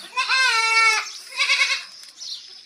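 A calm goat on a farm bleats close to the microphone during morning chores, one long wavering cry followed by two shorter ones, with no other sound around it.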